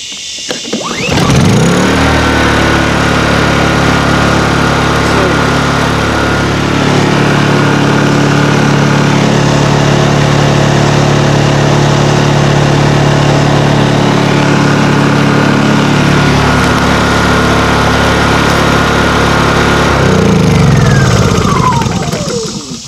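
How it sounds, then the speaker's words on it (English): A lightweight, quiet, fuel-efficient portable generator runs close by at a steady, loud engine drone with a constant hum, holding its pace throughout with no talking. "This is by far the favorite generator that I've had."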